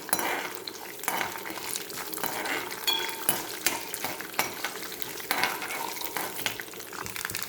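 Tempering spices fry in oil in a pan. The crackling sizzle is interrupted by repeated stirring scrapes and a few faint metallic clinks of utensil on pan, with no talking.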